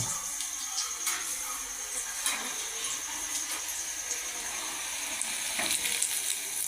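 Whole chillies frying in hot oil for bhajiya, a steady close sizzle with crackling bursts and faint stirring, no voices over it.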